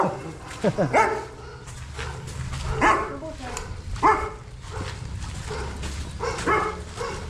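A dog barks in short bursts, several yips and woofs spread across the clip, with people talking nearby.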